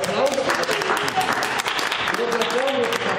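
Applause at a civil wedding ceremony, where the mayor of Parma marries two doctors: a few people clap in a steady patter with voices speaking over it throughout.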